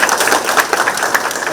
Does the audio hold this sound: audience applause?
yes